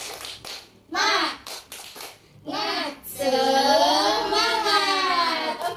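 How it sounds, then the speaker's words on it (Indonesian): A class of primary school children performs a rhythmic spirit clap in a classroom, with sharp patterned claps alternating with their chanted voices, followed by a long sustained group shout. "sebelum belajar kita mau tepuk semangat dulu nih"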